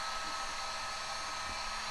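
Heat gun or hair dryer warming vinyl car decal: a steady, close, broadband blowing whoosh with a constant airflow hiss and motor whine, unbroken for the whole stretch, no voices.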